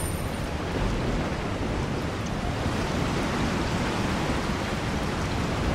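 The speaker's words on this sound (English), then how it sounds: "get in the house and out of the rain" Rain in the video game Resident Evil 4 hisses as a continuous, even downpour, loud and unbroken for several seconds with no talking.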